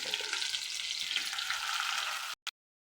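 Okra frying over high heat in a pan with onions and chillies, a close steady sizzle that stops abruptly, followed by one short clatter and then silence.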